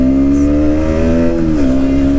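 KTM Duke 125 motorcycle accelerating hard in a 0 to 100 speed run, a steady loud engine whine climbing in pitch, briefly dipping at a gear change and then rising again, with no talking.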